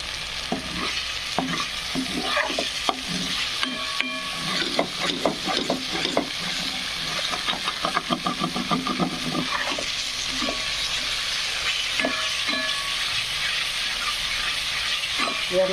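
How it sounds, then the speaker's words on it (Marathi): Spices sizzle in oil for a spicy mutton rassa curry while being stirred steadily, with repeated close scraping strokes over a constant frying hiss. "तर असे छानपैकी मसाले फ्राय होत आहेत तेल सुकत आहे बाजूने"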